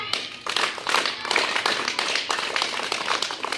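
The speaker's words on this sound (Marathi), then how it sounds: "टाळ्या वाजवा" Several people clap their hands in quick, uneven bursts, a lively patter of claps lasting a few seconds with little talk.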